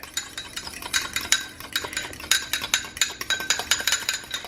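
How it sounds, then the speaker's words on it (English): An egg is whisked by hand in a bowl for keto breakfast prep, giving quick, steady metallic clinks and scrapes against the bowl. The rhythm is near and fairly even, and no one speaks. "what I'm going to do before I toss it in here is I'm going to actually just whisk it together"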